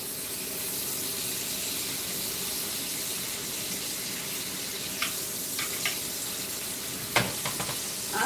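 Breakfast food sizzles and crisps steadily in a hot pan, a continuous frying hiss with a few sharper pops and clatters near the end.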